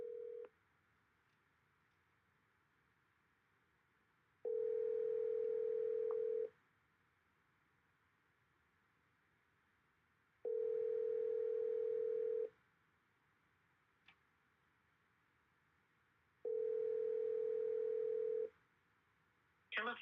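Telephone dial tone from a phone call being placed, sounding as three steady, evenly spaced beeps of about two seconds each, with quiet pauses between them and no one talking.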